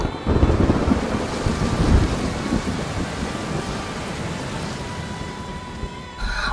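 Heavy rain pours steadily with low rumbling thunder underneath, a dense continuous wash of noise with no voices.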